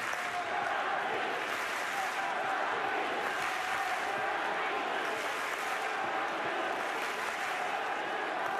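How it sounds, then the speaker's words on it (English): A French Open tennis crowd roaring and cheering during a tight women's match, a dense sustained wash of voices and applause filling the stadium, with commentators talking over it. "Great to have the crowd so involved."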